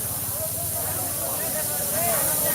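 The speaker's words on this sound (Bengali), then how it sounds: "গ্যাসটা কিভাবে ফিস ফিস করে যাচ্ছে।" Gas escaping from a leaking CNG line at a filling station in Sylhet during a fire, a continuous loud hiss with a low rumbling undertone, steady for the whole moment.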